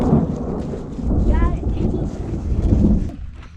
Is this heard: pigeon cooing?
no